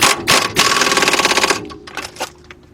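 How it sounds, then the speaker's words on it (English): Close, loud bursts from an air impact wrench tightening a 19 millimeter nut on a 2010 Honda Accord front strut and wheel bearing job: rapid hammering rattles, a long burst, then shorter taps. "I'm going to use my air gun."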